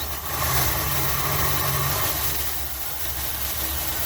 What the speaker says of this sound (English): Look at that, she's idling.